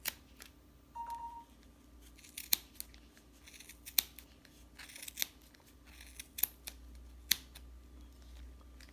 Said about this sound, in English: get a good pair of scissors that's gonna cut real good